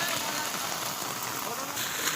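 Steady rain falls on surfaces in a residential colony, a dense, even hiss of drops that runs unbroken from start to finish at moderate loudness, with no talk.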